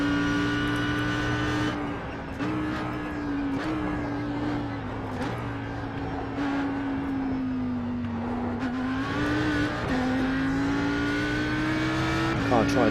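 An Audi R8 GT3 race car engine drones loudly and continuously in a driving simulator at Bathurst, pitch rising and dipping with gear changes and throttle, while someone talks over it.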